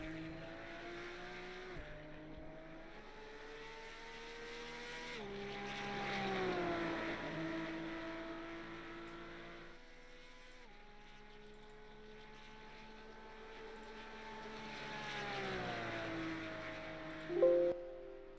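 Porsche race car engines in a racing video game, high whining engine tones repeatedly climbing through gears and dropping on shifts, steady and moderately loud, no talk.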